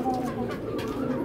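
A racing pigeon gives a soft, low, throaty coo, close and brief, over faint room background.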